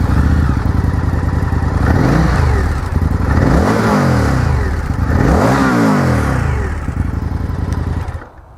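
Indian FTR S motorcycle fitted with an Akrapovic twin-can exhaust, idling close by and then blipped through several rising and falling revs, a loud, throaty engine note that cuts off at the end, no speech.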